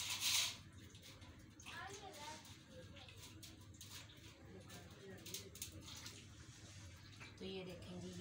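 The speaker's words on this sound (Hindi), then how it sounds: "ये परात भी हमने इसके साथ ही पानी के साथ ही धो लिए।" Water splashes and runs while a metal dough tray (parat) is rinsed in a village kitchen, with a brief louder splash at the start and steady washing noise throughout.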